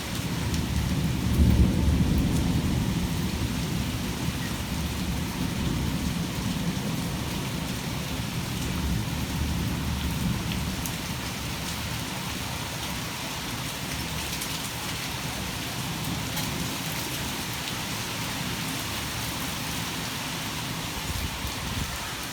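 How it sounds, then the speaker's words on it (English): Heavy rain pours during a severe warned thunderstorm with 40 mph wind and penny-size hail, making a dense, steady roar close by that swells slightly early on and then stays constant, with no voices. "It's really more rain than hail falling right now."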